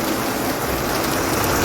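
Steady rain pours down during a monsoon in Mumbai, a dense, continuous hiss that sounds close and fairly loud, with no voices over it.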